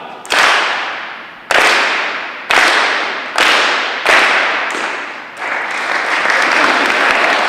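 Athletes in a school speech audience clap once in unison on cue, five loud single group claps spaced about a second apart, each decaying, followed by sustained scattered applause.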